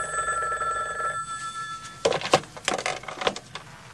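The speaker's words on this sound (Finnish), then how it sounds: "kun puhelin soi." In a Finnish radio drama, a telephone rings steadily for about two seconds, then stops and gives way to clattering handling sounds, as of a receiver being picked up.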